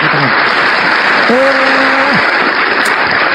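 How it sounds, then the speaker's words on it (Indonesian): Applause during an online forum: a constant, even hiss of clapping, with a brief voice sounding over it partway through. "tepuk tangan"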